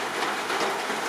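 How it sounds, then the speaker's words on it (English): Steady rain pours on a mountain in a constant dense hiss, close and fairly loud, with no breaks across the short stretch. "Raining pretty good."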